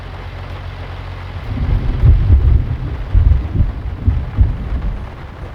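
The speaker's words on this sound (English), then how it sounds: "Thunderstorm is in for a while." A Farming Simulator 19 thunderstorm: low rolling thunder swells in after a steady hiss of rain and wind, rumbling in heavy bursts that come and go, with no talk.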